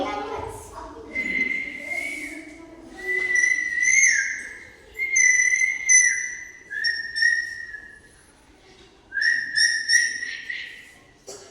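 A voice imitates a koel's call with repeated rising whistled notes, five or six calls in separate bursts, fairly loud and close.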